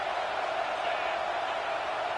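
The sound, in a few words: football stadium crowd cheering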